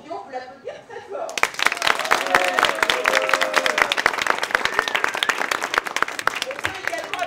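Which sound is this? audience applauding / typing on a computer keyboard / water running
audience applauding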